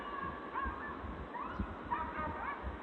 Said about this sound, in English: Be like those dogs over there.